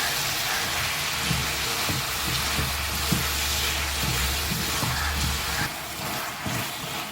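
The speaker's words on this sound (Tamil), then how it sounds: "தக்காளி பழம் நல்லா வதங்கிடுச்சு" Tomatoes sautéing with salt in a pan sizzle steadily in a continuous hiss, close and even, with faint stirring scrapes underneath and a low hum in the background.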